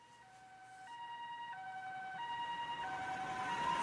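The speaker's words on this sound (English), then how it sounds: "It's an ambulance's siren." An ambulance siren in the video game Death Mark wails in stepped tones, growing steadily louder as it approaches over a low rumble.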